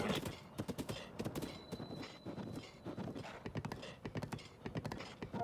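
Horse hooves clip-clop in a steady walking rhythm in The Legend of Zelda: Breath of the Wild, close and clear over faint background game ambience.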